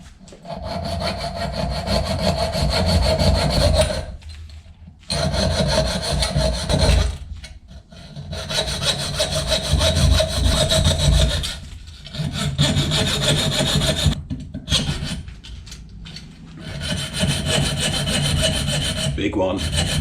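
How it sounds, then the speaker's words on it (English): A coping saw fitted with a steel hacksaw blade cuts through soft aluminium plate in rhythmic bursts of rasping strokes, pausing briefly between runs, close and alone without talk. "So I'm going to saw my way around this hole,"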